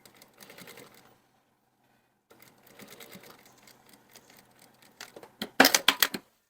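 A sewing machine runs a gather stitch on fabric in bursts of rapid rattling stitching, pausing briefly, then resuming and ending with a louder clattering run, close and without speech.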